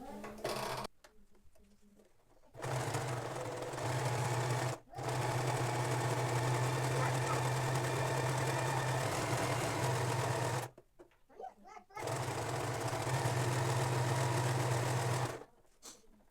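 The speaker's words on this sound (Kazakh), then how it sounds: "Зигзагпен тігіп аламыз." A sewing machine zigzag-stitches a skullcap in three long, steady runs of fast mechanical whirring, separated by short quiet pauses and a few handling clicks.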